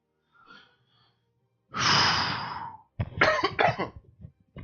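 A man coughs close to the microphone while still having a bit of a cough: a short breath, then one harsh drawn-out cough, followed by a few rougher bursts of coughing and throat clearing.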